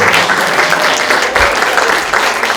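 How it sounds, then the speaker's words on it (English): An audience applauds international filmmakers at a film festival screening, a dense, steady wash of clapping from a full room that carries on without pause, with no voices standing out. "Can we have one more round of applause?"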